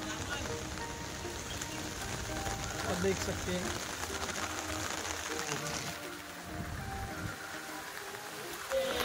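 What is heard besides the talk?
heavy rain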